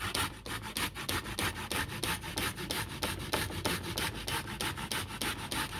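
Carrots for a carrot cake being grated into fine shreds, a close, rhythmic rasping scrape of quick repeated strokes, about four or five per second, continuing steadily with no talk.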